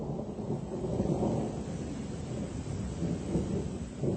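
A thunderstorm with a continuous low thunder rumble and a soft wash of rain, steady and moderately loud with no voices.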